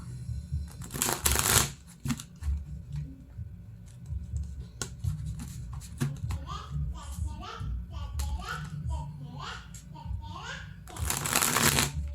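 A deck of tarot cards is riffle-shuffled in two loud, crisp bursts at the start and end, with softer card handling between them, while someone talks throughout.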